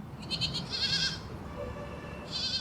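Goats at an integrated dairy farm bleat several times in quick, wavering calls, one short series and then another after a pause, fairly faint over steady farmyard background noise.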